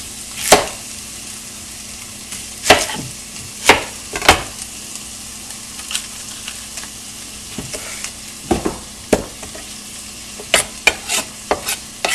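Onion cooks in a pan over a low background sizzle, punctuated by repeated sharp scraping knocks of a utensil stirring at irregular intervals, close and fairly loud.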